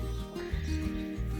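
A horse whinnies and nickers with a low, rumbling vibrato, close by and fairly loud, with some shuffling in the background.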